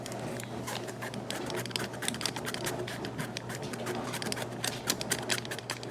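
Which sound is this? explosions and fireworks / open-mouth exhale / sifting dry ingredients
sifting dry ingredients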